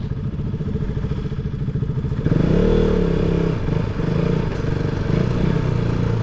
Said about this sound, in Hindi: जहाँ मर्जी हम लोग बाइक लेके जा रहे हैं मस्त